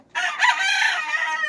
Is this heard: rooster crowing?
yes